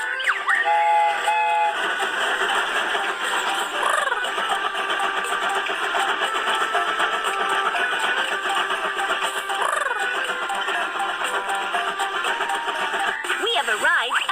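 A cartoon train chugs steadily as it sets off, a bright mechanical rhythm with a short whistle-like tone near the start, while a voice talks over it.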